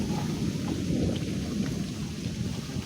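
A thunderstorm with rain in a village: a dense, continuous roar of heavy rain and deep rumbling thunder, close and steady throughout, with no voices.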